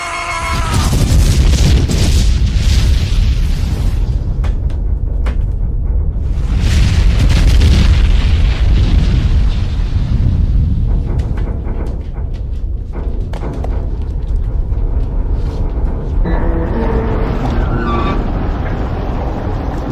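Torpedo explosions rumble underwater in a submarine action movie, a loud continuous deep booming roar with surging waves of low rumble throughout.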